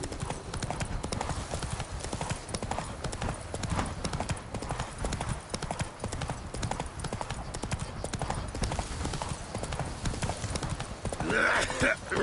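The horse Roach runs in The Witcher 3: Wild Hunt Remastered, with quick, steady hoofbeats clattering loudly all through and a brief rise of other game sounds near the end. A voice speaks over the galloping.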